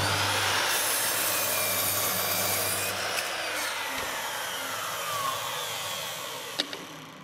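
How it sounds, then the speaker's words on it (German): A miter saw without soft start cuts through wood along a marked pencil line, making a loud, continuous grinding rasp. A low motor hum fades out partway, then a few faint knocks follow, with no talking. "Aber wir wollen ja hier wieder auf unserem Strich hier entlang sägen."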